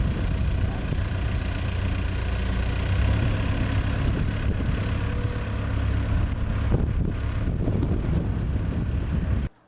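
A backhoe engine on a heavy equipment job site runs continuously at a steady, loud idle with a deep rumble, then cuts off abruptly at the end.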